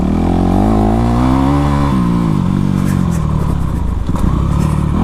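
A Honda CRF450 off-road motorcycle engine runs steadily up close, a loud continuous throb with a shifting pitch and some clatter throughout.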